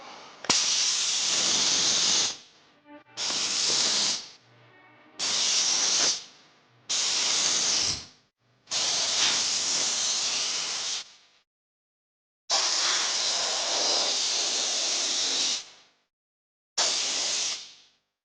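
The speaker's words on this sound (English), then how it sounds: "the Optima Steamer XDM produces 8 bar of pressure, 8 bar here, so the more distance you keep, the less bar it will be" An Optima Steamer XDM steam cleaner sprays car parts at about 8 bar, producing loud, close hissing bursts of steam that start and stop abruptly, several blasts of a few seconds each separated by brief silences.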